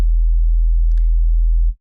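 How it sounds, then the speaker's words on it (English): Pure sine-wave bass layer from the Vital synthesizer, a steady, loud low tone held for almost two seconds before cutting off, with a faint brief blip partway through. "we're gonna be using these two sine waves as extra harmonics for the bass"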